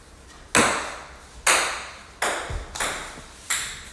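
A phone chimes with a text message notification, a short bright ping repeated about five times in quick succession, each with a sharp onset and brief ringing decay, fairly loud with no talking.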